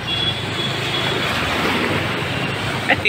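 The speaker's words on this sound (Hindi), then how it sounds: "पानी में धारा बह रही है" Water flows steadily along a stream in a channel, a constant rushing wash that is loud and close, with no talk over it.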